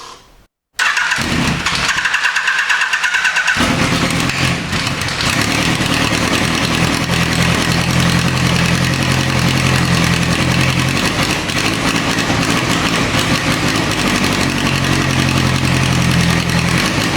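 A Yamaha FJ1200 motorcycle engine cranks briefly on a spare battery, catches, and settles into a steady, loud, close idle with no talking over it.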